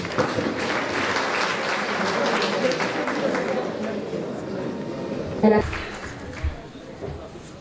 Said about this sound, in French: vous applaudissez, s'il vous plaît